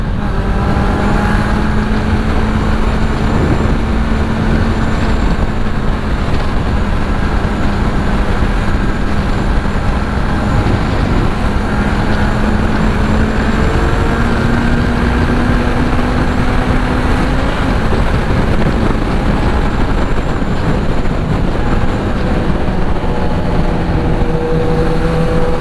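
A Kawasaki Z900 motorcycle fitted with a full-system LV exhaust drones steadily and loudly throughout, its engine note wavering slightly in pitch as it rides on without any talk.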